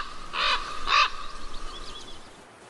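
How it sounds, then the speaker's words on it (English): Ravens in a coastal rainforest give two loud, harsh caws in quick succession, followed by fainter distant calls against a quiet forest background. "The ravens, the heralds of the rainforest,"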